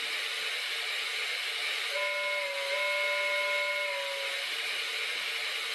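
A Lionel model train's steam whistle sounds one steady, thin, slightly weak tone lasting a couple of seconds over a constant hissing running noise, close by.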